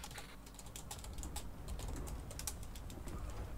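Rapid keyboard typing clicks, irregular and close, with short bursts of keystrokes running steadily under a low background hum and no talking.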